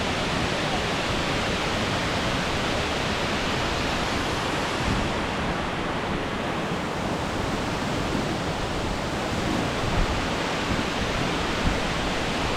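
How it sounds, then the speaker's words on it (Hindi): Water pours down Kuang Si waterfall near Luang Prabang, Laos, from the hills above, a dense, unbroken roar that stays loud and even throughout. "ऊपर से कहीं से पहाड़ियों से पानी आ रहा है, नेचुरल वाटर"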